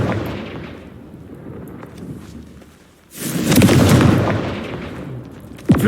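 A Confringo spell blast in Hogwarts Legacy, a loud nearby explosion that swells after a fading rumble and then rolls on as a heavy boom, with a sharp crack at the end.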